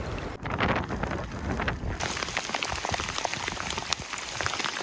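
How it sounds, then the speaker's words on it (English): Heavy rain comes down at a remote fly-fishing spot reached only by plane, a dense, steady patter and hiss that thickens partway through, with some wind noise on the microphone. "Just started to piss down."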